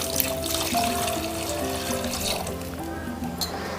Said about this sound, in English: and we are going to add some more water to this